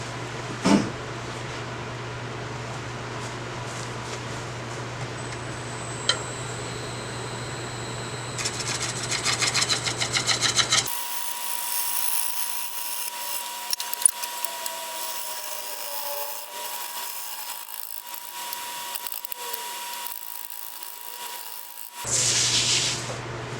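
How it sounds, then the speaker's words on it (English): Hand scraping of old walnut or poplar wood, a dry rasping rub that comes in bursts at close range, with steady background hum and a few sharp knocks, and no talk over it. "I'm going to go ahead and start back here with doing some scraping now."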